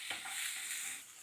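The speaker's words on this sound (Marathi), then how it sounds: "ह्याला छान परतून घ्या" Sprouted peanuts with chopped ginger, chili powder and turmeric sizzle and get stirred in a pan, giving a brief, soft, steady frying hiss heard up close.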